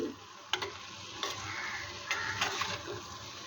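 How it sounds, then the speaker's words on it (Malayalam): Egg aviyal curry gets stirred in a pan, with a soft simmering hiss under a few distinct scraping clacks of the spoon. The sound is close and short. "അപ്പോൾ എല്ലാം കൂടി നന്നായിട്ടൊന്ന് മിക്സ് ചെയ്തെടുക്കുകയാണ്."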